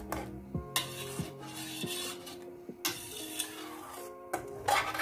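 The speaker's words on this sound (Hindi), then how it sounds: "तो आप मुसलसल चमचा इसके अंदर हिलाते रहें" Spoon stirring milk in a pan for milk barfi, repeated metallic scrapes and clinks against the pan in an uneven rhythm, close and clear with no talk.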